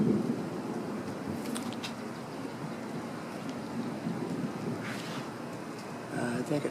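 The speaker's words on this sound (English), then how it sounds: "Well, at least thunder's coming." Low, distant rumbling of thunder rolls beneath wind and outdoor ambience as rain approaches, faint and drawn out, with a few brief noises near the end.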